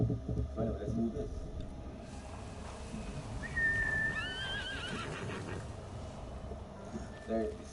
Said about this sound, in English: this is just a temporary horse that the story gives you